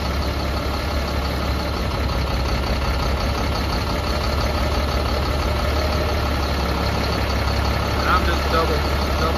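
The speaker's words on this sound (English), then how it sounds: "I'm just going to go through cylinder 1 through 6 and manually cut the cylinders in and out" Caterpillar C7 diesel engine idling steadily while its cylinders are cut in and out one at a time, a constant close rumble with faint knocking, under no clear talk.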